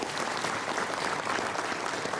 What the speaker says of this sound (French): Donc on peut les applaudir, ceux qui sont là.